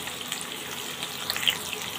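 Onions and chili frying together in plenty of leftover oil and fat from cooked quail, giving a steady, even sizzle at moderate level with no speech.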